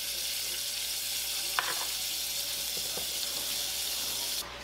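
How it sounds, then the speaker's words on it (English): Butter melting in a soup pot, a soft continuous sizzle and hiss close by with a couple of faint utensil taps, no talking. "We're going to melt this butter down."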